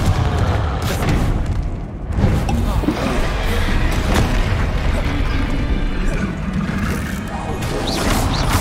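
Explosive Confringo spell blasts in the video game Hogwarts Legacy, with heavy booms and crashing impacts layered into a loud, continuous barrage of combat effects.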